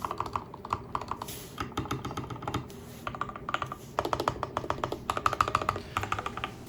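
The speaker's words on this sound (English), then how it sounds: "it's a very soft sounding keyboard" Rapid typing on a soft, gentle-sounding custom mechanical keyboard, bursts of muted clacks in uneven rhythm with brief pauses, close and clear with no voices.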